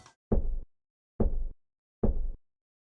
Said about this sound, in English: he will play a knocking noise that sounds like this